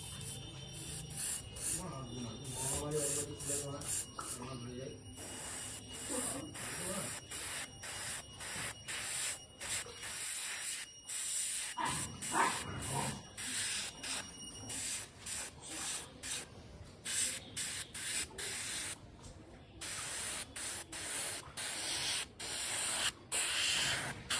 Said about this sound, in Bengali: এবার গানে নিয়ে নিলাম এই ব্ল্যাক রংটা, আর আমি কিন্তু এবার ব্ল্যাক দিয়ে সেট দিচ্ছি।